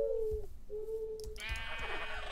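Blocky video-game sheep bleat in a Minecraft-style world, two or three short wavering baas close by, followed by a louder, longer bleat amid light game ambience.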